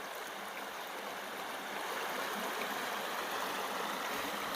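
A stream in a provincial park spilling over a small drop where beavers have tried to dam it, a steady broadband rush of flowing water, continuous and even, moderately distant with no voices.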